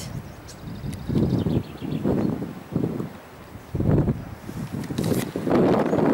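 Gusty wind buffets the microphone on a footbridge over a small stream in rough, low rumbling bursts that rise and fall, with faint rustling and water-like noise in the background.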